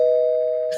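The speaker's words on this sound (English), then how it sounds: "That's us ringing your doorbell." A doorbell rings once, a loud, pure sustained electronic tone held steady close by, cut off abruptly with a brief noisy click at the end.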